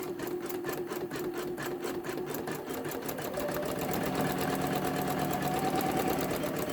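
A Janome Memory Craft 10001 embroidery machine stitches steadily at close range, its rapid needle pulsing in an even mechanical rhythm with a motor whir that rises slightly in pitch partway through.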